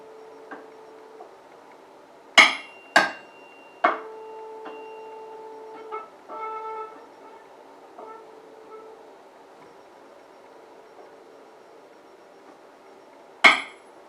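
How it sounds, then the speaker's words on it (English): Tuning forks struck on a wooden resonance box ring out in sharp metallic hits, each followed by a faint sustained tone that lingers and overlaps, several strikes spaced over a quiet background. "So you can hear the tuning forks continue on, they influence each other."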